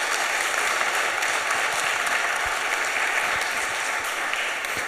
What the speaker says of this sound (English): Let's have a big round of applause for our speakers.